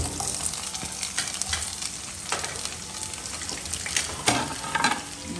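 Onion and capsicum frying in a pan, a steady close sizzle with scraping stirs and irregular clatters running throughout, no voices.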